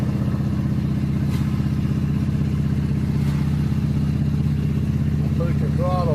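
A motorcycle engine drones steadily and loudly as the throttle is pushed, holding an even mid-pitched tone throughout with a faint voice near the end.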